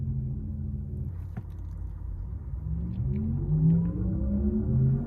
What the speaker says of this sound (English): I have that Porsche electric sound on.